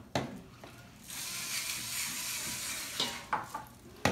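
Salt and pepper being stirred into food in an Instant Pot, with a few short scraping strokes and taps of a utensil over a soft sizzle, close and quiet.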